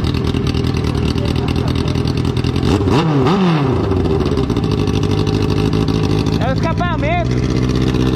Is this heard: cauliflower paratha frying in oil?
no